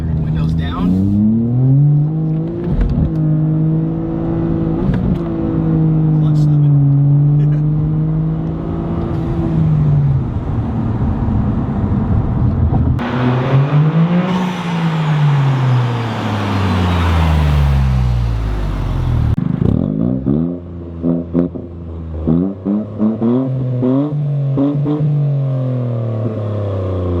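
A Toyota GR Corolla with an AWE Touring Edition exhaust driving, its engine note climbing and falling through repeated revs and gear changes, loud and close with a steady droning hum, while someone talks over it.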